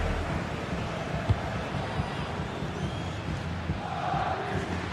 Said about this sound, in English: The crowd certainly think so. Just listen to that noise.